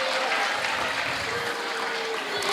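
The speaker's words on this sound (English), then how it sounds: "That is something that deserves a really loud round of applause." Audience applause at a primary school graduation ceremony, a continuous moderate clapping wash heard at some distance in a hall, with a faint background tone running underneath.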